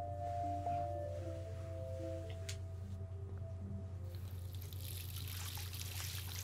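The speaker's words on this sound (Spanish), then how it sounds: "Ay, la ducha eterna." A shower runs in the video game Life Is Strange: a faint, even hiss of falling water over a low hum, growing brighter near the end.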